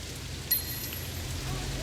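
Steady rain falls in the video game Sleeping Dogs, a dense continuous hiss with a brief high chime near the start, no talk over it.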